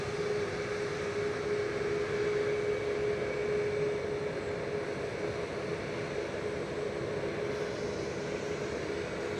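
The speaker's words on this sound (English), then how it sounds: "Ryanair Max 8 200 going next, flight 6838 to Prague." Ryanair Boeing 737 Max 8-200 departing Manchester Airport, a steady distant jet engine roar with a sustained whine, unbroken for the whole stretch and heard without any talk.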